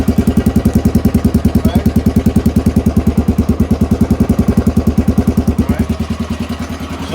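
A 1993 Honda XR250L street-legal dual-sport motorcycle idles steadily up close, its single-cylinder engine thumping in a fast, even rhythm that eases slightly toward the end, with no talk over it.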